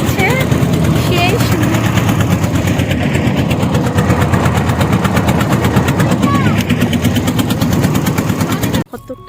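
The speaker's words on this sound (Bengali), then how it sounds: "মোটরের গতি দিয়ে নৌকা চলছে" A motorboat engine on a river runs close and loud with a fast, steady rattling putter that continues unbroken, then cuts out abruptly near the end, with voices talking over it.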